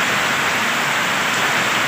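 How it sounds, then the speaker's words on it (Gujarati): Heavy monsoon rain pours down in Junagadh district, Gujarat, a dense unbroken hiss of falling water, loud and constant. "અત્યારે જોઈ લ્યો અનરાધાર વરસાદ છે એ વરસે છે"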